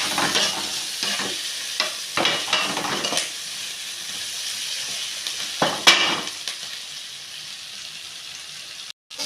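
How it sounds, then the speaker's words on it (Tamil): Onions fry in a pan for tomato rice, a steady sizzle broken by bursts of stirring scrapes and clatters, close and alone, ending in a brief silence. "வெங்காயம் நல்லா வணங்கிட்டுருக்கு இன்னும் கொஞ்சம் நேரம் வணங்கட்டும்"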